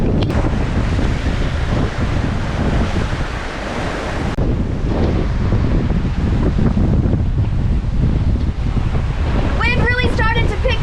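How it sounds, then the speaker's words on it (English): Strong wind roars across the microphone with surf and breaking waves around a sailboat at sea in roughly 35-knot gusts, loud and continuous, with a voice briefly heard near the end. "Wind really started to pick up. We're seeing 34 knots. 35 knots of wind."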